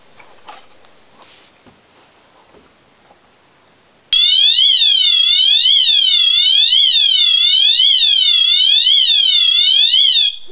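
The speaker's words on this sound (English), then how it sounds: "Okay, that was siren." Wheelock MT fire alarm sounding its siren tone, a loud, piercing, continuous whoop that sweeps up and down in rapid cycles, starting abruptly after quiet handling noise and cutting off near the end.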